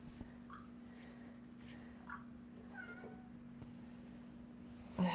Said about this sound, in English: he meowed